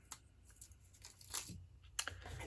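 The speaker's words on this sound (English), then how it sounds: "So I'm going to grab one glue dot," A glue dot peeled from its backing gives soft crinkly tearing and peeling noises in a few short bursts, close and quiet, with no talking.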